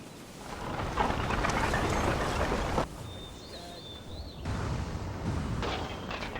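Artillery bombardment in a Total War battle between the British and Egyptian army and the Mahdists in Sudan: a steady, distant rumble of booming cannon fire that dips briefly, then swells again.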